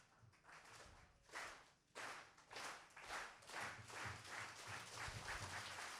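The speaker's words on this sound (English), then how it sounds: "the audience will start a slow clap like" At a February 2023 event, an audience does a slow clap together: rhythmic group claps come at a steady, unhurried beat, each landing as a soft, roomy burst heard from some distance.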